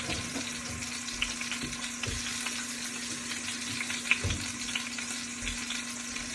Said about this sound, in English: So you need it to be high enough heat in the beginning so that you hear that sizzle